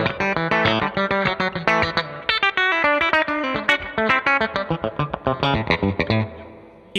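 Electric guitar, likely a single-coil pickup, played with the tone control rolled down, giving a dense run of distorted, effect-heavy notes and chords that plays steadily for about six seconds before fading out.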